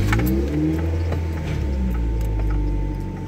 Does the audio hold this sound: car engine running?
yes